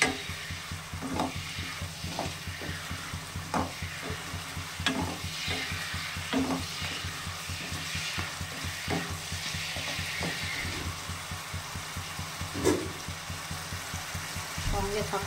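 Spice paste frying with a splash of water for a thin fish curry with foli fish, sizzling steadily while a spoon stirs and scrapes in a regular rhythm, with quiet speech nearby.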